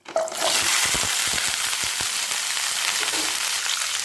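Winter vegetables dropped into hot mustard oil for a masoor dal khichuri, bursting into a loud, steady sizzle with a few small clinks and stirs underneath.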